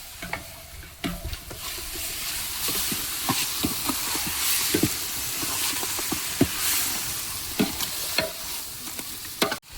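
Broiler chicken pieces with chilli and garam masala sizzle and hiss in a hot pan while a spoon stirs and scrapes through them in irregular knocks, close up and with no talking.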